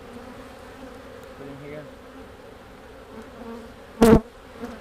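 Bees swarm around an opened beehive during a vertical hive split, a steady close insect drone with soft handling noises and a brief loud knock near the end; someone speaks a couple of words.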